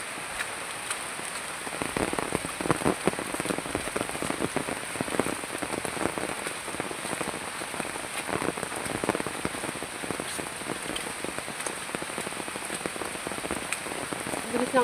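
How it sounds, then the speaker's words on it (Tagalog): Heavy rain pours steadily on a surface outdoors in the Philippine countryside, a dense continuous hiss with many close drops from start to finish and no talking. "Grabe lakas ng ulan."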